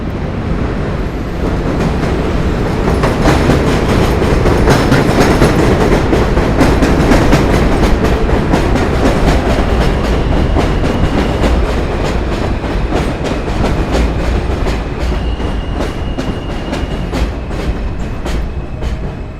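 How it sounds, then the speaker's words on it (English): An elevated subway train on the J, Z and M line in Brooklyn rumbles past loudly and close by overhead, wheels clattering in a steady clickety-clack rhythm that fills the whole stretch with no talking. "Here comes another train. So it's going to get loud when the trains go by."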